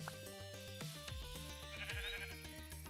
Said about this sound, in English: I don't want to kill this sheep, but I want his wool.